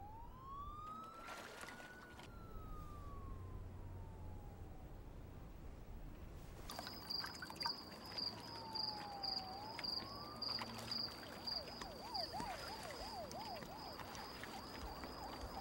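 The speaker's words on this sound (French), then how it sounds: "Toutes ces sirènes" Wailing sirens sweep up and down at a distance in a film scene, joined midway by a steady high tone and rapid warbling siren patterns over a rumbling background.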